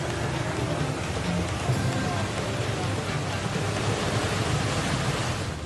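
Heavy rain pours in Indonesia after landslides, a dense unbroken roar of water that stays loud and even from start to finish.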